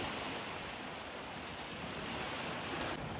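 Sea waves at Arambol Beach in Goa, a steady broadband rush of surf mixed with wind, even in level and moderately quiet, with no talk.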